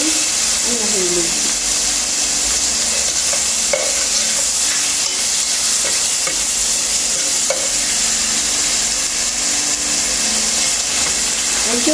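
Chicken pieces fry in a pan with a steady broadband sizzle and hiss, close and fairly loud throughout, with occasional stirring clinks and a voice briefly speaking underneath.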